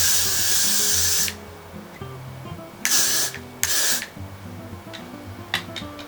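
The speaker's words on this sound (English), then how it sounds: "And it's time for the final spray." Hairspray from an aerosol can hisses onto styled vintage curls in several bursts: one long spray, then two shorter blasts, and faint brief puffs near the end, close and loud.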